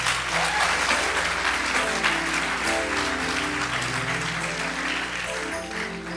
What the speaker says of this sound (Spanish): Dele una buena ofrenda de palmas.